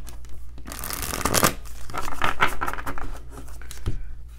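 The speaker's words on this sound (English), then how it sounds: "Let me just shuffle this one more time" Rapid riffling and snapping of tarot cards being shuffled close up, in a few quick bursts with soft flicks between them.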